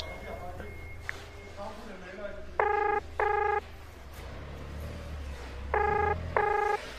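Touch-tone keypad beeps on a cellphone as a call is dialed, two pairs of short, loud tones about a second apart, heard over a quiet indoor room with low background rumble.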